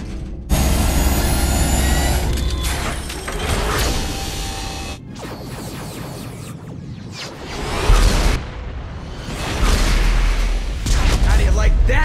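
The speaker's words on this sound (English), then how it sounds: "Fire the main gun." A spaceship's main gun fires in the Mass Effect video game: heavy booming blasts with deep rumble and clanking, grinding mechanical noise, loud and sustained across several bursts.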